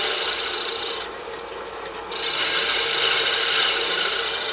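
A hand rasp or file works a 45-degree chamfer into the wooden base of an ornament display stand, a close, steady scraping stroke with a brief lighter pass midway, alone without talk.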